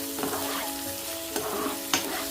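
Cabbage curry sizzles steadily in a pan with spices frying off, while a spoon stirs it in a few distinct scraping strokes.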